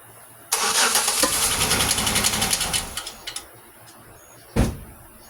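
A 2000 Pontiac Grand Am with a 3.4L engine cranks and catches after a short silence, running loudly for a few seconds before settling, followed by a brief knock.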